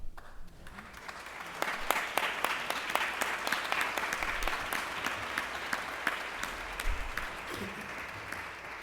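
Audience applause at a school district meeting after a superintendent's remarks, with crisp individual claps clearly audible over a sustained bed of clapping throughout, moderately distant in the room.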